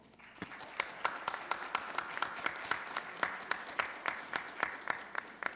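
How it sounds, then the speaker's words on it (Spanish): An audience at an aviation union forum claps to welcome a senator taking the stage, sparse individual claps ringing out in a loose, fairly regular rhythm over a soft bed of applause, moderately distant. "la senadora Blanca Estela Piña Gudiño, a quien recibimos con un fuerte aplauso."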